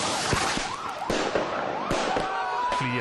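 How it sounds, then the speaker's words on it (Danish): Fireworks go off at a street demonstration in Aarhus, aimed at press and police, as a rapid series of sharp loud bangs and cracks over a crowd, with a wailing siren-like tone in the background. "Til alt held viser det sig at være fyrværkeri, primært rettet mod pressen og politiet."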